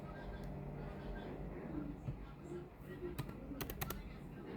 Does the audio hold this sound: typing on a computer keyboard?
yes